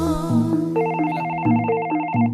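A telephone rings with a repeating electronic ringtone pattern, loud and close, several cycles of the tone sounding in succession.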